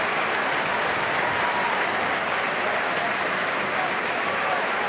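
A rugby crowd at Exeter Chiefs versus Saracens applauding Tom Cairns. Steady, dense clapping fills the stadium with no break, heard from a distance as a continuous wash.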